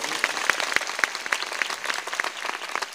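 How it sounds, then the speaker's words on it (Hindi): A congregation at a church gathering claps in a steady rhythmic beat, sharp distinct claps roughly every quarter second over a busy room murmur. "टिके जोर रे मारंतु ताली"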